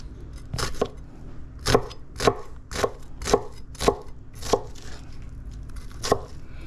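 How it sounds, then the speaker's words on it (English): Knife chopping an onion on a cutting board for pot stickers, a steady run of about ten crisp, close chops at a moderate rhythm with no talking. "get this onion all chopped up"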